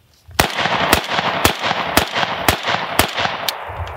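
PSA AK74 rifle emptying a magazine in winter: eight loud, sharp shots spaced roughly half a second apart, each a crisp crack with a short echoing tail, no talking.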